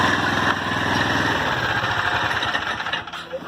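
Predator 212 engine on a homebuilt ATV running at half throttle in a driveway, a steady buzzing single-cylinder drone that holds loud and then wavers and eases slightly near the end.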